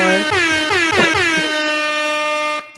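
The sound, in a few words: air horn sound effect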